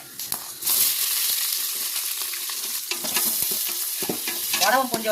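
Vadagam crackles and sizzles steadily frying in hot oil for dried fish curry, with occasional stirring scrapes and a few sharp pops, close by and without talk.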